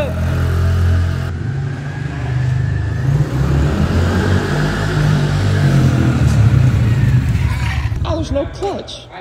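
An electric-start engine runs and revs in a continuous, loud mechanical drone that rises and swells, with people talking over the noise.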